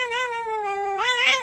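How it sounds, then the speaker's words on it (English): A cat yowls in a long, wavering, song-like caterwaul that rises in pitch toward the end, loud and close, as if copying a person singing, with no talk over it. "the cat that imitates the owner singing"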